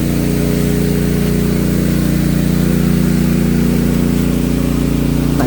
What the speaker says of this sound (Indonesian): ini tuh mesin air